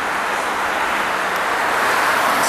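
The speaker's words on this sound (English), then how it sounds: "Sorry for the traffic noise, I hope you can hear this." Continuous city traffic noise near a roadside patch of fireweed, a broad steady rush of passing vehicles with no pauses and no voices.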